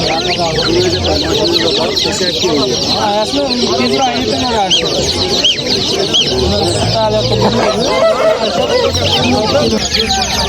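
Dense clucking and peeping of many chickens and two-day-old chicks fills a busy poultry market, steady and close throughout, with people talking underneath.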